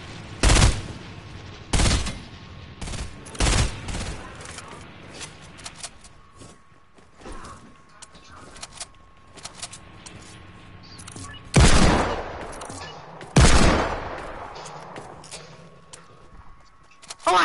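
Several loud, widely spaced Desert Eagle shots ring out in a video game firefight, single heavy blasts with pauses between them over a low background din.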